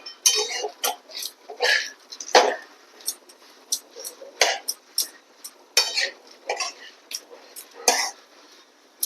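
Dates roasting in ghee in a pan while a utensil stirs them, producing scattered close clinks and scrapes with soft sizzling between them and some throat sounds from a person nearby.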